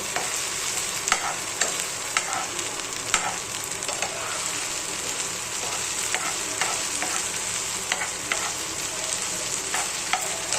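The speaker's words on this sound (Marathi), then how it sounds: "आता थोडा लाल होत जांभळा ब्राऊन कलर होईपर्यंत भाजायचं आहे." Paneer bhurji fries in a pan with a constant close sizzle, punctuated by frequent scraping clicks of stirring throughout. No voices are heard.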